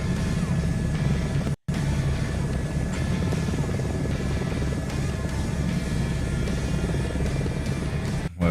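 A helicopter in Microsoft Flight Simulator 2024 drones steadily with a dense, continuous rotor and engine roar close up, broken only by one brief cutout near the start.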